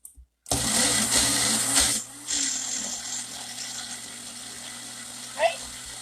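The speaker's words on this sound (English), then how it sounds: "Okay, magic bullet. All right, and we're just going to... mix it." A Magic Bullet blender whirs loudly as it mixes pumpkin bread ingredients, with a brief pause and a drop in pitch as the load shifts, then a short knock near the end.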